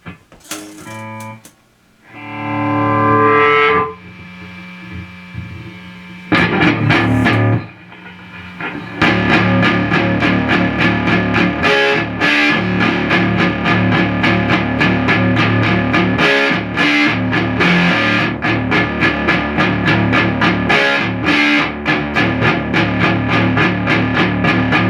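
Electric guitar through a Sunn Beta lead preamp clone pedal with the gain cranked, heavily distorted and sustained. Sparse opening notes give way to dense, loud, continuous chords and riffs.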